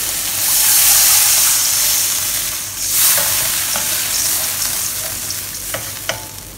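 Water hits a hot pan of fish stir-fry with salted vegetables and sauce, giving a loud hissing sizzle that swells, eases, then flares again, with light stirring and clinks of utensils.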